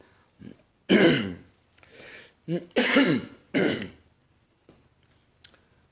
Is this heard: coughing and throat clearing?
yes